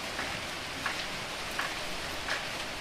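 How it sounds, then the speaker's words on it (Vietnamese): Rain falls steadily in the Mekong Delta, a soft continuous hiss with a few faint drip-like taps scattered through it, moderately quiet and without voices. "Trời mưa quá. Trời mưa không có đi mua được."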